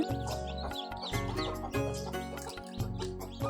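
Two hens with newly hatched chicks cluck steadily in a low, repeated rhythm, close by, with soft chirping and a constant low hum underneath.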